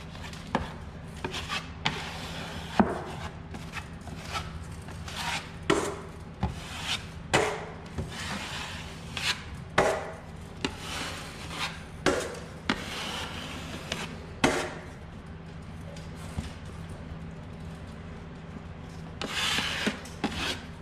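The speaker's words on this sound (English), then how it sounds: "first I'll just wipe the excess mud" Drywall knife wiping excess joint mud off metal corner bead, heard as repeated rhythmic scraping strokes, close and fairly loud, with no talking.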